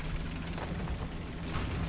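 Tank cannon and heavy machine-gun fire in War Thunder from an M103, a dense, sustained booming roar with a low rumble and no talking.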